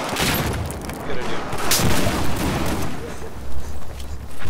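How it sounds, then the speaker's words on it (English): Frag rounds burst in a close-quarters Battlefield 4 match, a loud, dense barrage of explosions and gunfire thudding over several seconds. "Too many frag rounds."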